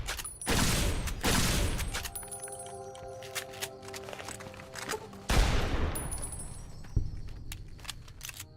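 Loud .45 pistol shots in Fallout: New Vegas Honest Hearts DLC ring out, a couple early and another burst later, each followed by echoing reverberation and mechanical clicks.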